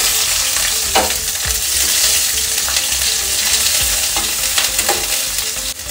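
Mustard seeds, green chilies and sliced onions fry in oil for a potato curry, a loud, continuous close-up sizzle with occasional stirring scrapes throughout.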